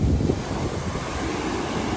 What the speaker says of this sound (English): Especially when the waves are even bigger.